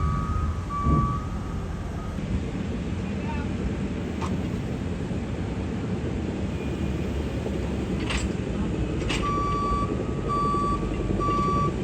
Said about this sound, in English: So over here we got a guy on a dozer and in the wheel loader